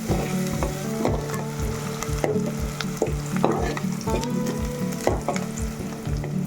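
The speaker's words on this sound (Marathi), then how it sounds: "कांदा आता पोळून घेते आणि कांदा थोडं थोडासा पोळल्यानंतर त्याच्यामध्ये कोकम टाकणार" Chopped onion with chilli and garlic sizzles loudly in hot oil in a pan, with a spoon stirring in a steady scraping rhythm throughout while preparing a Konkani fish dish.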